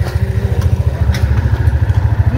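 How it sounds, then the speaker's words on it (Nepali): A motorcycle ridden close by puts out a loud, throbbing engine note, a fast regular pulsing chug held steady through the whole moment. "सुशान्तले चाहिँ बाइक चलाइरहेको छ"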